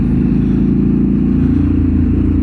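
A motorcycle engine runs loud and close with a deep, continuous throbbing rumble that holds steady throughout, no talk over it.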